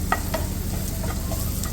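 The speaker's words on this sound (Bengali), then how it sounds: "যে গার্লিকটা দিয়ে এবার একটু শ্যালো ফ্রাই করে নেব" Crushed garlic shallow frying in oil in a pan before swordfish goes in, a steady low sizzle with a few light stirring clicks, close and even.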